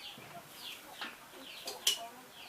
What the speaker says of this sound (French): La poule qui attendait de cuisiner peut-être.